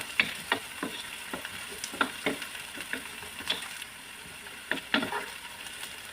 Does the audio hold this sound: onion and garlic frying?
yes